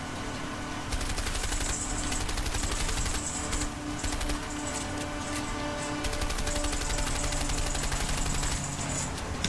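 Rapid, continuous bursts of automatic gunfire rattle on and on in the video game A Way Out, game-like and dense, with a steady background drone underneath.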